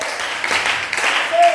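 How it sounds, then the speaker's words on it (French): Applause from a church congregation, steady and moderately loud, mixed with voices throughout. "Donnez des mains d'acclamation au Seigneur."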